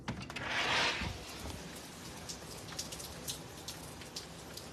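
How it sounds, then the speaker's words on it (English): Rain patters steadily on surfaces outdoors on a cold Memorial Day, with a brief louder burst of drops near the start and scattered close drips continuing throughout, no voices. "It's raining"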